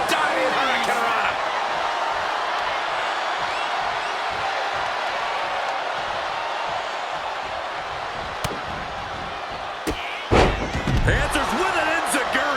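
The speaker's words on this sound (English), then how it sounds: "Oh, a diving hurricanrana." A diving hurricanrana slam in the WWE 2K wrestling video game lands as a sharp thud near the end, over a steady roaring arena crowd with commentary running throughout.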